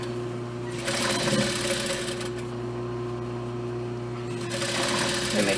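A sewing machine stitches a dress bodice with the needle kept down while turning, giving a steady whirring hum with two bursts of faster, brighter running and a brief pause between.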